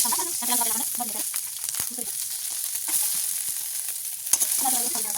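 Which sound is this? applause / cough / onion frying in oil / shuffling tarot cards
onion frying in oil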